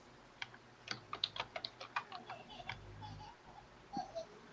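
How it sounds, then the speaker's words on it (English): Quick bursts of computer keyboard typing, irregular clicky keystrokes close by, with a faint murmur of voice in the background. "Sorry, you guys are hearing the typing."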